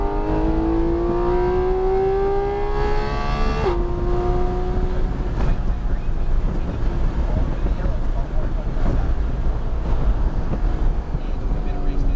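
A Porsche Cayman GT4 RS accelerating hard on the Nelson Ledges track. The engine note climbs loud and close, with a brief gear change before it keeps rising and droning on.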